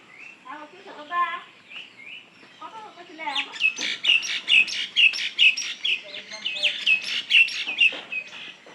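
Pigeons kept near a water dish for bathing give repeated bright chirps and calls, close and fairly loud, thickening into a steady run over the second half, with a person talking briefly near the start.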